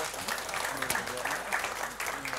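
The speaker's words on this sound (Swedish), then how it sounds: "En applåd till panelen." Applause for a panel at a Swedish public discussion on the labour market, a sustained, even clapping from a sizeable audience, moderately distant, with a few voices underneath.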